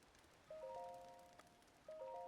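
Steady rain in The Legend of Zelda: Breath of the Wild, a faint continuous patter that runs throughout and sits beneath soft in-game chime tones that sound twice.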